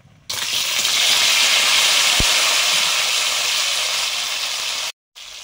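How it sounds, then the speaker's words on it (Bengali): Pointed gourd (potol) frying in hot oil, a loud steady broadband sizzle that starts abruptly and holds for several seconds before briefly cutting out near the end. "পটলগুলো আগে ভেজে নিচ্ছি"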